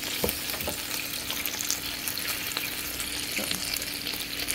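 Chicken fries in its own juices, without oil, inside a churro maker: a dense, even crackle and sizzle that runs without a break and stays close and steady throughout.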